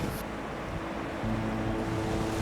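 Takakkaw Falls in Yoho National Park, British Columbia, a steady broad roar of falling water heard from a distance with no pauses.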